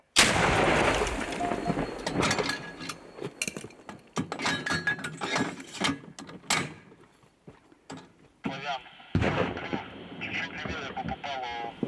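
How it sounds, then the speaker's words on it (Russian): Gunshots and artillery fire at a front line in Ukraine, loud sharp bangs and rolling blasts in irregular bursts that give way to quieter gaps with distant rumble and noisy background. "Постріл!"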